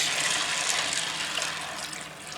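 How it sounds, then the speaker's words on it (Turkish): Hot water is poured into a pot sitting on a stove, a steady, close, continuous rush of liquid with no break and no voices. "Sıcak suyumu ilave ediyorum"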